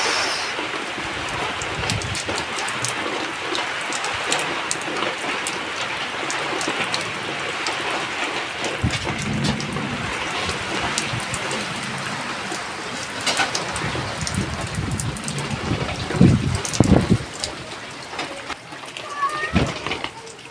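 Steady rain pours down with gusty noise during Typhoon Uwan in Batanes, Philippines, occasional louder splashes and knocks nearby, and a voice speaking over it.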